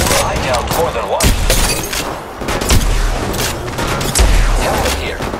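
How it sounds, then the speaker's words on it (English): Gunfire in an Apex Legends shootout: rapid bursts of close, sharp shots with a few heavy booming impacts, loud and dense, with game voice lines mixed in. "Opening fire on the enemy."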